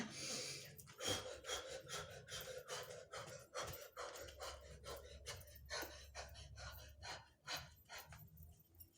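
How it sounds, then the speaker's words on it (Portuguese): Quick, rhythmic in-and-out breathing during a jumping exercise, a steady run of short panting breaths and puffs heard close and fairly soft, with no talking. "Trabalha a respiração, que é inspira e expira, inspira e expira, inspira e expira e pula"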